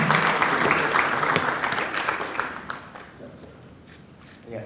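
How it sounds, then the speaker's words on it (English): An audience at an AI convening applauds the minister, starting as sustained clapping that fades gradually over several seconds. The sound is moderately distant, and a voice speaks faintly at the end. "Please clap for the minister."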